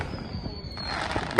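Fourth of July fireworks going off near a house, a steady crackling rumble with a sharper bang building at the very end.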